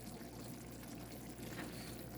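Flour-and-water slurry poured into a pot of brown stew chicken, a steady soft liquid pour and simmering hiss running continuously without pause, close by and fairly quiet.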